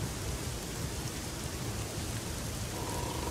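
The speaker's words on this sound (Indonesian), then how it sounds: "Dan masih hujan" Steady rain falls in an Indonesian wooden-floor horror walkthrough game, a dense, even hiss of rainfall with a low rumble underneath, continuous and moderately faint, with no one speaking.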